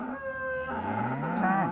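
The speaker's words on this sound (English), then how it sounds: "The cows are more afraid of you, especially the calves." Cattle from a farm herd of cows and calves moo in a drawn-out, tonal call that shifts pitch partway through. It is close and fairly loud, with a second lowing voice rising underneath and no talking.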